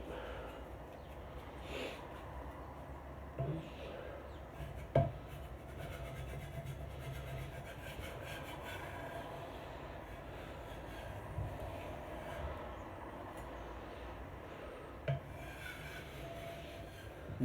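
A hand scraper pulls dried finish off a wooden dining table in steady, low rasping strokes with a few sharper scrapes and knocks, close but fairly quiet.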